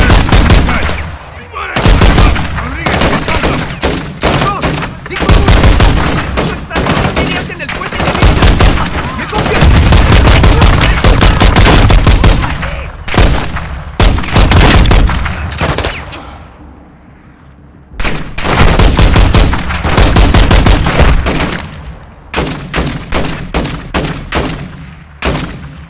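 Heavy gunfire in the Modern Warfare II cartel mission: dense, loud bursts of automatic weapons fire with booming shots, nearly continuous for most of the span with a brief lull, and occasional shouted voices mixed in.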